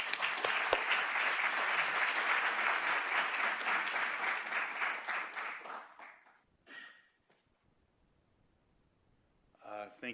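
An audience breaks into sustained applause to welcome a speaker at a talk on racism and medicine, loud and steady for about six seconds before fading out into near silence, then a voice begins speaking.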